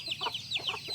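A flock of chickens clucking close by as they beg for food, with a quick series of short, choppy calls overlapping one after another at a steady rhythm.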